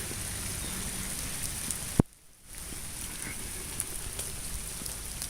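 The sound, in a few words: rain falling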